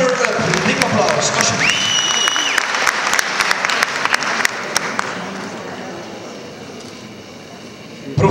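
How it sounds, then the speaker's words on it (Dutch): An audience at a fashion pageant finale applauds loudly and steadily for a winner, with a tonal whistle-like sound briefly mixed in and the clapping gradually fading toward the end. "Vicky Fortune Run, een dik applaus."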